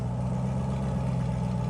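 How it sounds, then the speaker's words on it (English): A Corvette fitted with an FI exhaust, valves open, gives a deep, steady engine rumble at close range, loud and continuous through the short stretch without talk. "in the FI exhaust Stradman Corvette. Oh, jeez. You hear when he opened the valves?"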